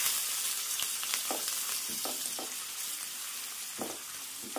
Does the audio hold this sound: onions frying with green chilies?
yes